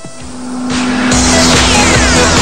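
A food-processing machine mixes raw ingredients with spices into a paste for a protein-rich food. Its loud motor whirs and climbs to a steady, strained roar that stays close throughout.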